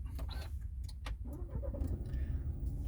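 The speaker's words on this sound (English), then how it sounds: "What we need to do is start the car first of all" A Renault car with an R-Link 2 system is started: a few sharp clicks and cranking bursts give way to a steady, low engine idle rumble, heard close up with no talking.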